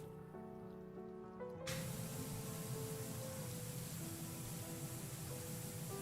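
A pressure washer sprays in the Powerwash Simulator 2 video game, a steady hissing rush of water that starts abruptly and holds evenly over quiet background music, with no talk.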